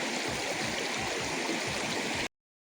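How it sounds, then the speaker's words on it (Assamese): A jungle river stream flows steadily nearby, its broad rushing, gurgling water holding an even level throughout before cutting off abruptly near the end. "নদীৰ সোঁতবিলাক আপোনালোকক দেখুৱাবলৈ চেষ্টা কৰিছোঁ ৰ'ব, চাওক কিমান ধুনীয়াকৈ বৈ আহিছে"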